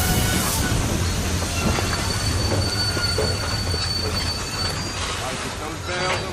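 A train rolls into a station platform with sustained high wheel squeal and steady rumbling rail noise, loud and close throughout, with faint voices in the background.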